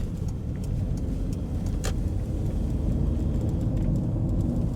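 Steady low road rumble from a 1997 Toyota Townace Noa 4WD van driving along, tires and engine droning evenly with a faint higher hiss, heard from inside.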